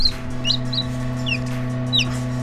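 A newly hatched chick from an incubated egg chirps in short, high peeps over a steady mechanical hum, likely the incubator, with several chirps spread across the moment.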